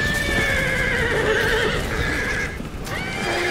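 Horses in the strategy video game Thrones of Britannia neigh and whinny repeatedly over a dense clatter of hooves and battle noise. No one speaks.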